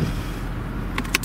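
A Mercedes-Benz SL lowers itself back to normal ride height, a low steady hum of the suspension followed by a few short clicks and taps near the end, close and moderate with no voices.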